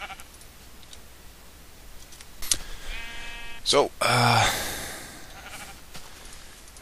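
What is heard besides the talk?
sheep bleating in the video game Minecraft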